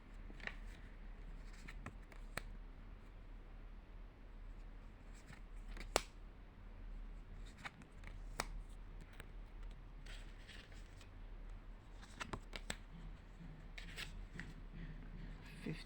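Oracle Cards of Well Being deck flipped through by hand, giving soft paper rustles and brushing slides with several sharper card snaps, quiet and close, with no talking.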